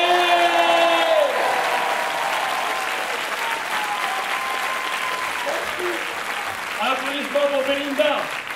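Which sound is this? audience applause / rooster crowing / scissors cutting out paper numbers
audience applause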